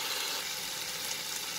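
Dal sizzles in a pan with green peas and tomatoes, a steady soft hiss of frying with no talk.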